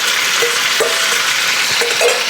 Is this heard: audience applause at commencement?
no